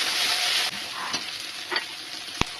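Dried red chilies, bay leaves and whole garam masala frying in hot oil for a mutton curry, a loud steady sizzle with a few scraping stirs and a sharp clack near the end.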